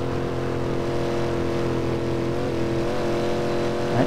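A Shelby Cobra V8 race car engine in the Assetto Corsa sim racing game at the Nordschleife holds a steady, throaty roar with slight pitch shifts, loud and close, no voices.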